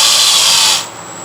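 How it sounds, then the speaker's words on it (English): A power drill set to speed 1 whirs loudly and close during outdoor floor assembly, then its high-pitched whine drops as it slows. "when the drill is going, you want to slow it down"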